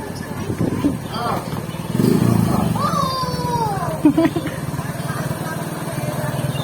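A motorcycle engine idles nearby at a 65th birthday gathering with Christmas lights, a steady low drone running under excited voices talking throughout.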